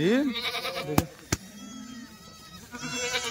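Kathiawari goats at a live goat sale give a wavering bleat at the start and another toward the end, with two sharp knocks in between and a background murmur of people talking.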